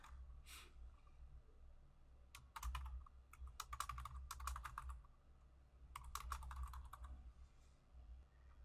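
Close keystrokes on a computer keyboard type a name into a payment-account form, coming in quick clusters separated by short pauses over a quiet room hum.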